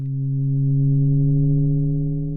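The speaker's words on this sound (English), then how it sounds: "As I increase the FM depth or modulation depth, we'll get more harmonics." A modular synthesizer produces a steady, loud, low FM tone with a stack of harmonics that holds for the whole stretch and swells gently as the modulation depth rises.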